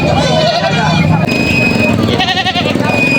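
Large goats bleat loudly up close at a goat sale in Padre Garcia, Batangas, their wavering calls overlapping, while people talk over them.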